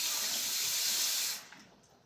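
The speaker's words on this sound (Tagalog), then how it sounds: "dagdagan na lang ito ng tubig." Water pours steadily into a container holding plant cuttings, a close rushing hiss that stops abruptly and leaves faint trickling and drips.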